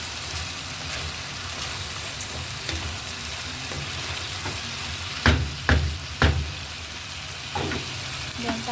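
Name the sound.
stirring glutinous rice in a pot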